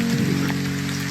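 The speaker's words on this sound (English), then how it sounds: "It's still raining, but there's blue skies now." Rain falls steadily in a national park, a dense, even hiss of drops on surfaces filling the short moment without pause or voices.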